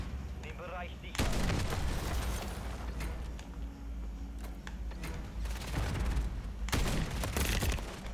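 Gunfire in Call of Duty Modern Warfare 3, including sniper shots, crashes out in sharp loud bursts over a constant battle din, with a sudden blast early on and another heavy volley near the end.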